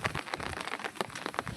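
Rain falls steadily on a hillside pasture where cows are grazing, giving a dense, even patter of drops close by, with no voices.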